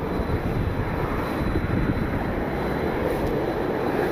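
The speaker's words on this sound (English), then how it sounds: "We got a Frontier inbound." Broad, rumbling roar of a Frontier Airlines airliner coming in to land at Cleveland, a loud continuous wash of engine noise heard outdoors from the ground, with no talking.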